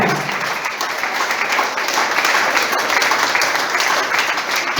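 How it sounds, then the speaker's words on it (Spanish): Church congregation applauding during a Spanish-language sermon, a steady wash of many hands clapping throughout, fairly loud and close with no talk over it. "Dar un aplauso al Señor."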